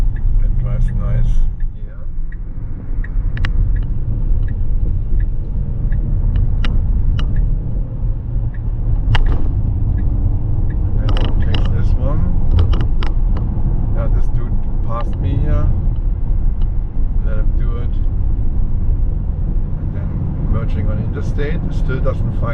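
A car cruising on an interstate highway in self-driving mode gives a steady, loud low road and engine rumble throughout, with a person talking over it.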